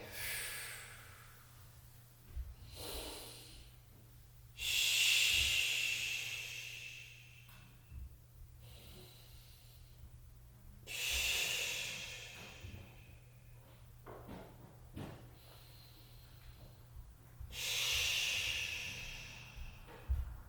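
Slow, deep breaths during a yoga crow pose workshop, with three long, airy exhales spaced several seconds apart and softer breathing between them, close and quiet.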